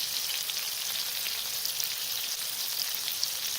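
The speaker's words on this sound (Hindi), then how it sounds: "दूसरी साइड से पकाएंगे इनको।" Peshawari chapli kababs frying in hot oil on their second side, giving a continuous dense crackling sizzle, close and even throughout with no voices.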